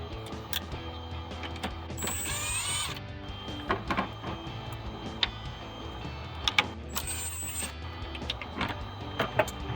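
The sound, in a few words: removing T20 Torx screws from RAM 1500 mirror cover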